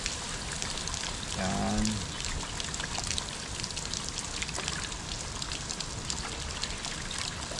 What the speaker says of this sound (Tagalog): Lalagyan natin muna ng tubig para ito ay uminit.